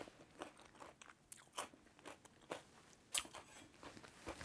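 Someone bites into a slice of freshly mixed cucumber salad seasoned with salt and pepper, giving a series of quiet, crisp crunches and chewing sounds close up.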